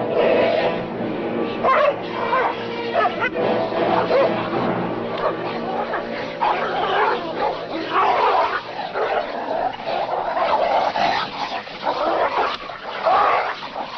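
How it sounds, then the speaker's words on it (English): Dogs in a violent fight in a 1955 Western, snarling, barking, yipping and whimpering in continuous chaotic bursts, loud and close, with occasional shouting voices mixed in. "You there, call your dog off."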